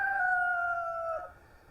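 A single long rooster crow rings out clearly, held steady before trailing off, fairly near against quiet background.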